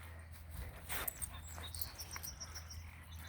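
A mixed-breed dog on a beach walk whimpers faintly, with soft high whines over steady low outdoor rumble and a brief louder rustle near the middle.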